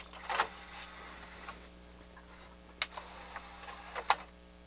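Tray loading mechanism of a Harman Kardon HK 720 CD player, tested after repair, gives a few quiet motor whirs and sharp plastic clicks at separate moments over a faint steady hum.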